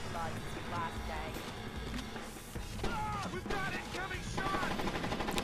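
Gas grenades are launched in Splinter Cell: Chaos Theory, with sharp thumps and clattering impacts scattered through a busy, continuous game soundscape, partly under voices.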